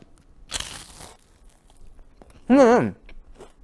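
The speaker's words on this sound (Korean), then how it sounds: "굉장히 바삭한 맛이 딱 느껴지지 않겠습니까?" A crisp crunch of a brittle Korean rice snack, hangwa, being bitten, followed by a short voiced hum; quiet between the two sounds.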